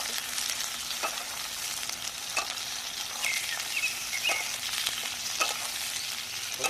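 Onions fry in a pan over a village outdoor cooking fire, a continuous soft sizzle broken by occasional sharp scraping clicks as they are stirred, moderately quiet and with no talking.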